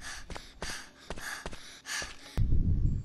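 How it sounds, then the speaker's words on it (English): A running character in Hello Neighbor pants in quick, regular breaths, close and fairly loud, before a sudden louder rumble of background noise. "My boy panting hard as hell."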